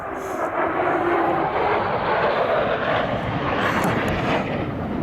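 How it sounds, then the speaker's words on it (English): A jet aircraft passes overhead above the grassy fells of the English Lake District, its broad roaring rumble loud and steady throughout, heard alone on an open hillside walk. "Whoa, I can hear a jet."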